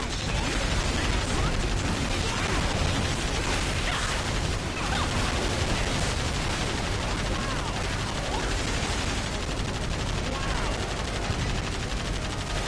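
Nonstop automatic gunfire from a bottomless-ammo weapon in Earth Defense Force: World Brothers 2, a dense, loud, unbroken rattle of shots that fills the whole stretch without pause.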